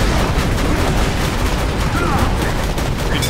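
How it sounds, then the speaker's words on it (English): Rocket explosions and rattling gunfire in the video game Borderlands 2, a loud continuous barrage of shots and blasts filling the short stretch with no pause. "My rocket just bounced off your back."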